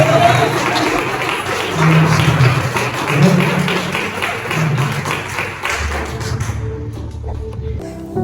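Church congregation claps and applauds steadily for several seconds, a dense patter of hands that fades out near the end, with voices mingling underneath.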